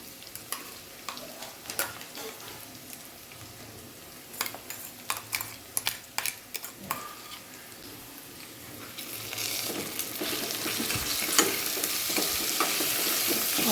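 Garlic paste and green chillies fry in a pan for a simple vegetable pulao, with a steady sizzle underneath and clicks of a utensil stirring, the frying growing louder and hissier toward the end.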